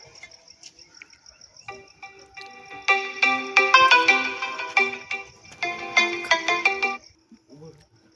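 A phone ringtone plays in bursts of bright repeating melody at moderate loudness, with a few quiet clicks and a brief voice near the end.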